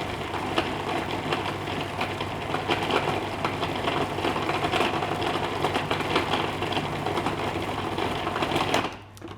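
A blender whirs continuously at high speed, breaking down ingredients for a lamb Wellington, with a steady, close, buzzing motor drone that cuts off abruptly at the end.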